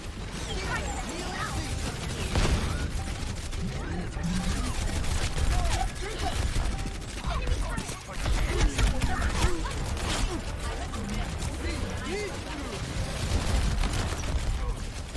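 Enemy turret gunfire in the video game Overwatch: dense, continuous rapid shots and crashes in a busy battle soundscape, with game effects and voices layered throughout.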